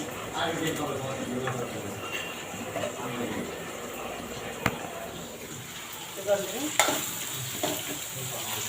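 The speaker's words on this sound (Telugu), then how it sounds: "ఉల్లిపాయలు అయితే ఫ్రై అవుతున్నాయి" Onions, green chillies and curry leaves frying in a pan for egg curry: a steady hiss of sizzling oil with occasional stirring scrapes and a few sharp clinks, close, with a voice talking over it.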